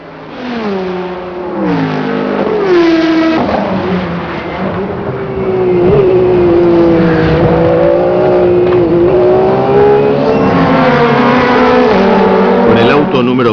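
Porsche 911 GT1 factory race cars at the Le Mans 24 Hours: loud, sustained engine roar with rising and falling revs as gears change, heard under continuous commentary.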